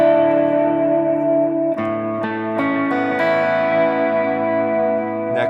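PRS electric guitar played on the neck pickup through an amp with swirly chorus and echo effects, warm sustained chords changing every half second or so, loud and alone.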